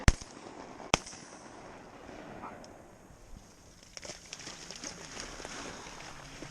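Two sharp shotgun blasts ring out during a duck hunt, one at the very start and a second just under a second later. Both sound near and loud, with a rustling outdoor background and faint activity after them.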